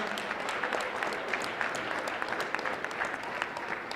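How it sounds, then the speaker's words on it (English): A school audience claps for a teacher honored as Teacher of the Year, a steady wash of applause from many hands at moderate volume, even and unbroken across the short stretch. "So can you give him a big round of applause?"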